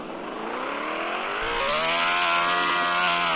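A car engine in a video game drones loudly and steadily, its pitch climbing as it revs up while driving and reversing, with no talking over it.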